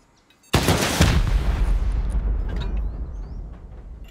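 Turret gunfire in a clan raiding survival video game, a sudden loud burst of shots at the start that rolls into a long, booming, decaying rumble, with no talk over it.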